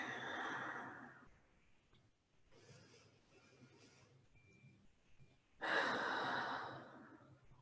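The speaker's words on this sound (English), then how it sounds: "Taking 3 big breaths here" During a hatha yoga session, someone takes slow, deep breaths close to the microphone: a long exhale, quieter breathing, then a strong audible inhale and exhale.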